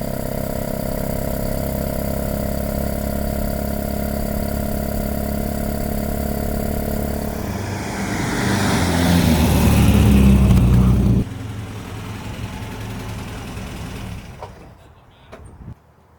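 An MG car engine drones steadily at a constant pitch on a misty California morning drive, then swells into a loud, rough rev for a few seconds before settling back and fading away.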